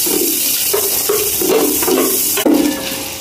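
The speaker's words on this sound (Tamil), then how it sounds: "இப்போ கட் பண்ணி வச்சுருந்தா வெங்காயத்தை சேர்த்துக்கலாம்." Onions go into hot oil with cinnamon, cloves and cardamom for chicken mandi biryani, giving a close sizzle with repeated stirring scrapes and a brief clatter near the end.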